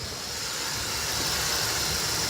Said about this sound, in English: It's got a great idle, and even when I give it gas, this thing moves.